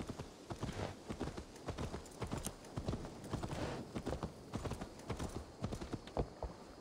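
Rapid rhythmic clip-clop of horse hooves trotting on hard ground in the video game Assassin's Creed Valhalla, steady and close, continuing without pause throughout.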